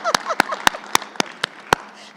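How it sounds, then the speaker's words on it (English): Sparse applause greets panel speakers on stage at a live conference event: about seven sharp, evenly spaced claps, close and distinct, with a faint murmur underneath. "Let's give them an applause."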